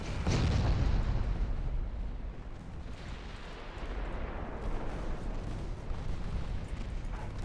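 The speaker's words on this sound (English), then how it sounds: "I would very much like this division to fire over here, you over there, and you over there. Execute." Naval artillery fire in the warship strategy game Ultimate Admiral Dreadnoughts: a loud, heavy boom opens, followed by a sustained rumbling roar of continued gunfire and rolling echoes with no talk.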